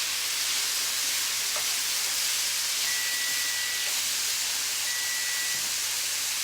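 A steady, loud sizzle of food frying in a hot pan hisses continuously, with faint occasional pops and no talking.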